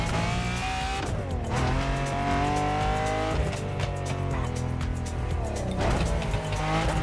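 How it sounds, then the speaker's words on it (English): Lamborghini Diablo in the racing game The Crew Motorfest, a loud engine revving up through the gears, shifting with pitch sweeps, with tire squeal throughout, close and continuous with no talk. "we're talking about the sensational Lamborghini Diablo"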